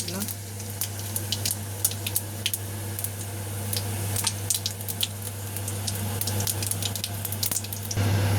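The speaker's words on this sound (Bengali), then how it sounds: "কড়াইতে তেল দিয়ে দিয়েছি আর একটু, এবার কিছু জিরে আর তেজপাতা দিয়ে দিলাম" Cumin seeds and bay leaves fry in hot oil in a wok, a close steady sizzle dotted with small pops and crackles that grows slightly louder toward the end.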